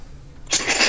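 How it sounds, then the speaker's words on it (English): A hard, harsh throat clearing bursts in after a quiet stretch, a single loud, rasping effort that fills the second half and stays close to the microphone. "Sorry, I had to clear my throat so hard."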